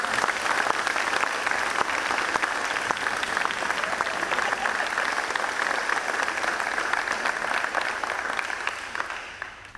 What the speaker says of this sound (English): big round of applause to this beautiful family sitting before you right now.